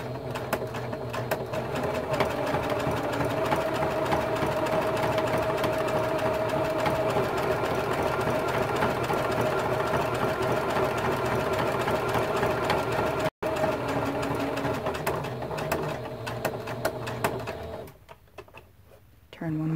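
A sewing machine stitches a quilted mug rug with a steady, loud mechanical whir and rapid needle chatter that runs continuously, briefly pauses, then stops near the end; a voice talks faintly beneath.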